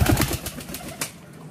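Pigeons kept by a breeder coo softly nearby in short low calls, with a faint flutter of movement and no talk.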